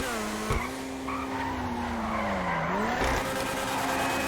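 A Vysser Neo sports car in GTA Online skids as it loses traction, giving a loud, sustained tire squeal that bends in pitch over several seconds, with brief thumps near the start and again toward the end, heard alone.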